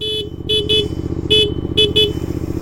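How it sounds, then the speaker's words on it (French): A Suzuki GSX-8S motorcycle horn honks in short bursts, one long toot then several quick pairs, over a steady idling engine rumble. "petit coup de klaxon"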